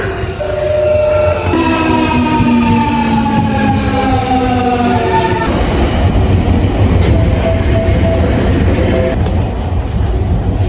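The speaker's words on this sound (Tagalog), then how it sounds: "So andito na yung train." A train pulls into a station in Osaka, Japan, its rising and falling tonal whine of motors and brakes loud and close over a steady rumble, with a siren-like electric tone near the end.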